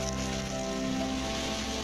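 Steady rain falling outside a home on a rainy day, a dense, even hiss of drops on surfaces, continuous and fairly loud with no voices.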